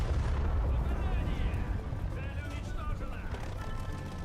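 Tank cannon fire in a video game, a heavy low boom opening the clip and rumbling away over several seconds, with voices talking over the decay.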